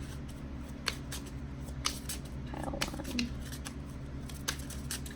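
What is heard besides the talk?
shuffling a deck of oracle cards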